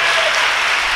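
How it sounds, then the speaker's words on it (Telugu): A church congregation claps loudly and steadily during a Telugu worship sermon, a dense continuous burst of applause with no voices over it. "కొట్టండి ఎంత గట్టిగా కొడతారో చప్పట్లే"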